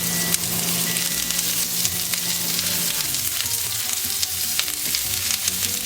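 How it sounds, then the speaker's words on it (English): Onion sizzling loudly on a hot fajita cast iron pan, a continuous close crackling hiss with scattered pops and scraping, no talk. "Okay, now I'm going to add the onion."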